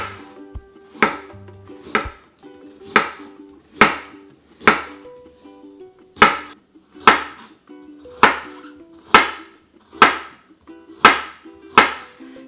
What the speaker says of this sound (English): I'm just gonna slice the carrot into really thin pieces